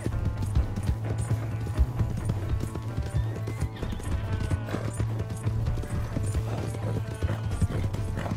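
A horse gallops in the video game Red Dead Redemption 2, a fast, continuous run of close, loud hoofbeats over a low rumbling background, with no talking.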